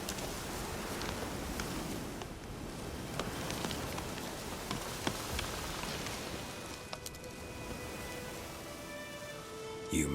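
Rain falls steadily in The Witcher 3, a dense even patter on the ground and leaves with scattered nearer drops, moderately quiet and unbroken.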